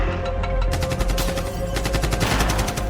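Rapid gunfire in an attack on a house in Ahmedabad, several rounds cracking one after another in a quick, loud, uneven burst with no talk.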